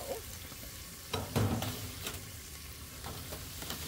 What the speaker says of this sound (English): throw a couple tablespoons of butter onto this now. And just let that kind of cook in there